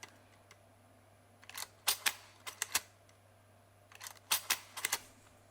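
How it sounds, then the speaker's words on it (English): The drive lever mechanism of a Corema Portative adding machine works in sharp mechanical clicks and clacks, two quick clusters of several snaps each over a faint steady hum, quiet and close. "So here's the drive lever in action."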